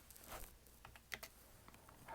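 Typing on a computer keyboard, a quiet run of soft, irregular key clicks close by with brief pauses between small bursts.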